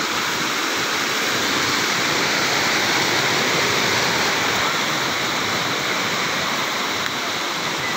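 A small stream flowing outdoors, a dense steady rush of water that stays loud and even throughout with no pauses.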